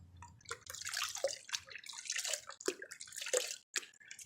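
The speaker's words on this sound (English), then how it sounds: "So fill up your bucket like this with water." Water splashes and gurgles into a bucket in uneven bursts, close by, with dripping and sloshing.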